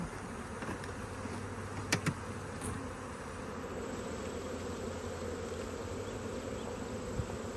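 Honey bees swarm around a hive holding a honey super, making a dense, continuous close buzz. A couple of brief knocks sound partway through.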